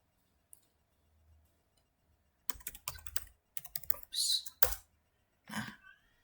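Computer keyboard typing during a cybersecurity lab exercise, a short run of quick key clicks ending in a firmer press of the enter key, close and fairly quiet with brief pauses between taps.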